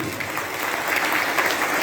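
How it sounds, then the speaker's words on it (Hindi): Applause from an audience at a gathering of a saints' community at a holy site, steady and dense for the whole stretch, moderately loud with no voices over it. "तो एक बार ताली बजा दो अपने लिए"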